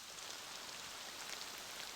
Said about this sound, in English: in Mount Hood, if you close all your windows, it will actually begin to rain